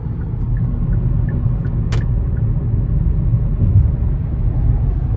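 A vehicle rolls past on the road as a steady, loud low engine and tyre rumble with a brief sharp hiss partway through.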